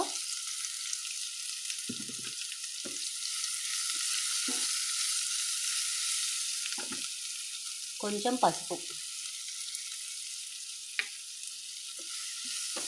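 Tempering spices with onion and curry leaves, sliced onion and asafoetida, sizzle in oil for a leafy-greens dal: a continuous bright frying hiss throughout, with brief stirring clatter and a short spoken remark partway.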